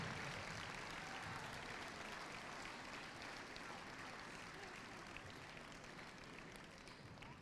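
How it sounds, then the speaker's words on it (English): A crowd in a gym claps steadily for an all-star girls basketball team at a North Dakota all-star game, sustained distant applause that stays fairly faint and even throughout. "Let's have a round of applause for the AB All-Stars."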